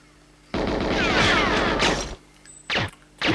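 Rapid gunfire from a retro computer or console shooter game, a dense burst of repeated shots lasting over a second, followed by two short sharp bursts, loud and close.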